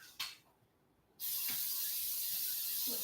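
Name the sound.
cooking spray sprayed into a wok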